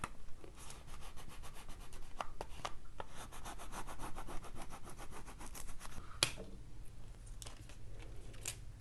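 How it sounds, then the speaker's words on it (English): A hand tool rubs foil onto paper with rapid back-and-forth scratchy strokes, close and quiet, a steady scraping rhythm that continues throughout with brief pauses. "I'm just going to burnish it down a little bit."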